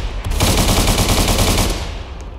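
Rapid automatic gunfire in the Roblox game Prison Life, a loud close burst of fast repeated shots lasting about a second and a half before stopping.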